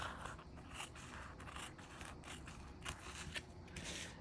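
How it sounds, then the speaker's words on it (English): Scissors trim an uneven edge off a sheet of crepe paper, giving a soft, continuous run of close, quiet snipping and scraping with a few sharper clicks and no talk. "I'm going to go ahead and just trim off this edge here that's a little bit uneven"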